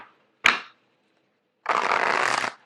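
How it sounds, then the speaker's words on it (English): A deck of tarot cards is shuffled at close range: a sharp single riffle snap, a short pause, then a steady dense riffling burst lasting nearly a second, with no talking. "Let me get the cards shuffled out."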